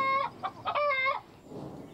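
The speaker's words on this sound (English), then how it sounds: "Kate, is that chicken looking at me funny?" A chicken gives a quick run of loud, close clucks, several short calls in a row, followed by a quieter rustle.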